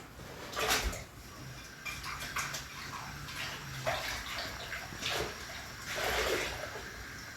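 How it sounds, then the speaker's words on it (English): A container is rinsed under running water before pineapple goes in, with bursts of splashing and gurgling and some light clatter of dishes, no voices. "Then I'll rinse my container where I'll be putting my pineapple."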